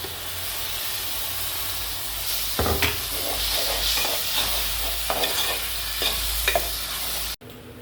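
Masala with tomatoes fries in a pan, giving a steady sizzling hiss broken by scraping stirring strokes at irregular intervals, close and fairly loud, with no talking.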